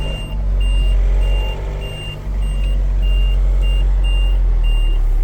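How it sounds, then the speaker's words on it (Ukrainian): A Linde H35D-02 diesel forklift sounds its reverse buzzer as an evenly spaced series of about eight short electronic beeps over a loud, steady engine drone, close by and with no talk. "Ось зумер заднього ходу, реверсу, все, він їде назад."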